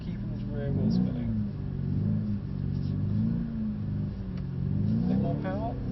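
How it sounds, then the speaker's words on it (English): Car engine revving at low revs while its rear wheels spin, rising and falling in repeated swells, close and moderately loud, with a voice talking at moments over it. "So keep those revs as low as you can,"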